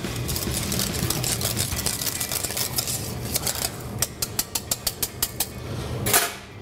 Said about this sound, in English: Get a whisk in there.